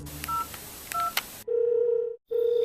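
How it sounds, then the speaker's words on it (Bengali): A telephone keypad beeps through a quick series of dialing tones, then a steady electronic ringing tone sounds twice with a short gap, as someone places a call to a friend; clear and close, with no talking. "সে আর কিছু ভেবে না পেয়ে আবার বন্ধুকে ফোন করল।"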